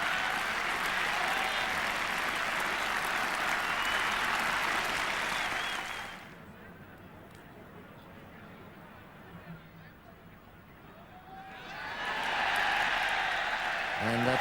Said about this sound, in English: The crowd will give him a terrific ovation.